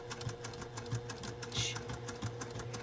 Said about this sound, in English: Now I'm back over to the sewing machine, and I'm starting on the outside.